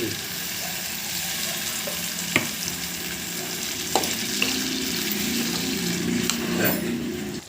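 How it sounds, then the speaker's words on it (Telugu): Tomato paste fries in oil in a pan for a green pea curry, with a steady close sizzle and a few sharp scrapes and clinks of stirring that stand out. "టమోటా పేస్ట్ బాగా ఫ్రై చేసుకోవాలి"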